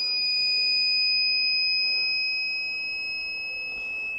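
A DIY 2.5 kWh battery box inverter sounds a steady, piercing electronic alarm tone as it loses power, continuous and loud with no talk over it.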